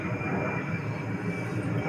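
Airplane engine sound plays as a steady, droning roar with broad hiss and low rumble, unbroken and fairly loud throughout, played back for a dog.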